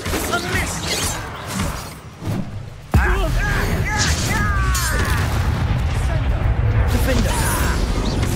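Bombarda spell explosion in the video game Hogwarts Legacy, a sudden loud boom that cuts in partway through and leaves a dense rumbling, crackling wash under game effects and voices.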